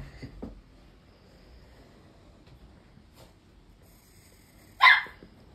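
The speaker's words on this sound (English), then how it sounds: "The dog's barking." Dogs bark outdoors in a mostly quiet setting. A few faint barks come early, then one sharp, louder bark near the end.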